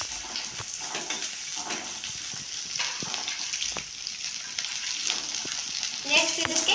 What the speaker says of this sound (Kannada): ಇವೆಲ್ಲ ಚೆನ್ನಾಗಿ ಫ್ರೈ ಮಾಡಬೇಕು.